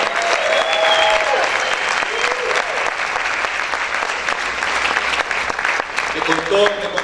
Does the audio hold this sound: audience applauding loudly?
yes